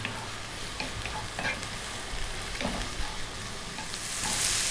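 Onion, garlic, mushrooms and green beans sauté in a hot pan over medium heat, giving a steady close sizzle and crackle with soft stirring scrapes that swell slightly louder toward the end.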